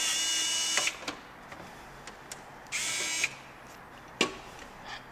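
Power drill driving screws into a PC case, three bursts of high-pitched motor whine with a few sharp clicks between them, close and fairly quiet.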